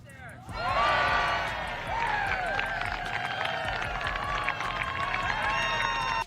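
A golf gallery at The Annika pro-am erupts for Caitlin Clark's putt with loud, sustained shouts, whoops and cheers layered over general crowd noise, staying strong to the end before cutting off.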